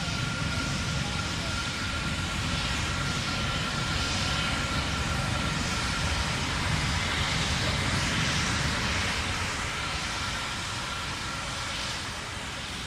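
The Terran 1 3D-printed rocket roars in flight, a dense, unbroken, broadband rumble that holds at a loud, steady level throughout and fades slightly at the very end, with a voice faintly present beneath it.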